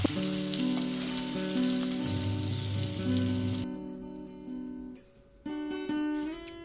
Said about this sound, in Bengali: মাছটাকে এপিট ওপিট লাল লাল করে ভেজে নেব মাছটাকে কিন্তু খুব ভালোভাবেই ভাজতে হবে